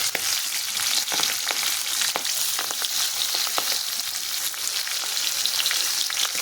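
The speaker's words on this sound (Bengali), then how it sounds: "এইভাবে ঢাকা দিয়ে দিয়ে আমি এটাকে ভেজে নেব।" Pangas fish frying in a covered pan, a steady dense sizzle and crackle with small pops throughout, close and loud, with no talking.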